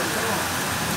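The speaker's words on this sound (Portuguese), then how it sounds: "No momento, uma chuva muito forte aqui no bairro Jardim Peperi." Heavy rain driven by strong wind roars in a dense, continuous wash through a neighbourhood of São Miguel do Oeste, loud and close, with a faint voice underneath.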